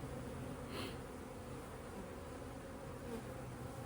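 Honey bees hum steadily in an open hive being inspected for a queen, with young bees hatching among the frames; a soft, even drone fills the whole stretch without talk.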